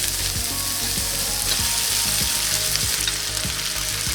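Loud, continuous sizzling of garlic and ginger frying in a hot cast-iron pan, with regular scraping strokes of a utensil stirring every half second or so.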